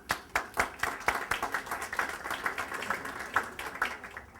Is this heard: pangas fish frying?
no